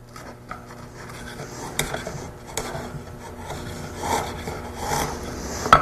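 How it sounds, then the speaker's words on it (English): A chisel or block plane trims the ends of wooden stock for router joinery, a continuous rasping, scraping shave of wood with occasional small knocks, close and moderately loud, without speech. "To clean up the ends of the stock, use a chisel or block plate."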